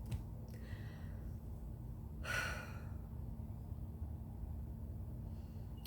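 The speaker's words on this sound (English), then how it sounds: "take a deep breath" One deep breath, a soft airy inhale near the middle over a steady low room rumble, with faint quieter breaths at the start.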